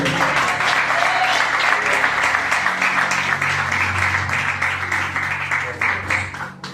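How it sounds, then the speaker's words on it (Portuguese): A church congregation at an evangelical service gives loud, full applause that carries on for several seconds, dense and sustained, with a low hum of voices underneath. "e as palmas no nome do Senhor"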